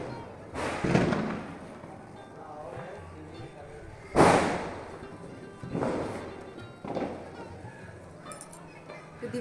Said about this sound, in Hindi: इसके बाद अब पटाखा वटाखा फोड़ेंगे हम लोग।